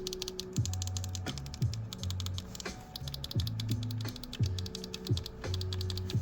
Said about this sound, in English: You got clicky everything as far as the face buttons.